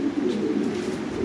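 Pouter ball pigeons coo in a steady low drone that runs through the whole short stretch, with no voices over it.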